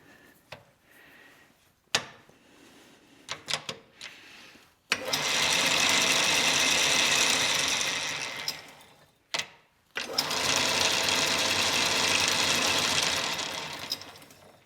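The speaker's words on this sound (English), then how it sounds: "But now at least it functions as a metal lathe." A 1914 South Bend treadle-powered metal lathe whirs in two sustained, fairly loud runs, each a few seconds long. Before the first run come a few clicks and knocks, and a short pause with clunks separates the two runs.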